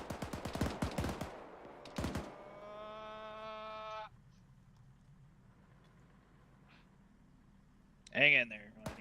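A rapid string of gunshots opens a military field training exercise, with close, sharp cracks in a quick volley followed by a second burst. Radio-like tones and people talking follow in a quieter stretch.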